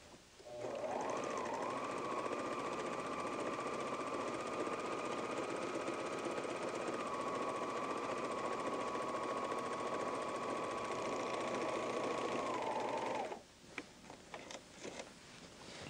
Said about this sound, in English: Place the fabric in front of the foot and serge those edges.